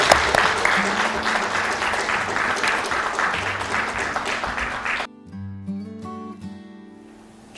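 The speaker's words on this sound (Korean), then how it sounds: "박수 부탁드립니다." Audience applause at a retirement ceremony and commemorative service for a professor in Korea, loud continuous clapping over a sustained music tone, cutting off abruptly partway as music continues alone.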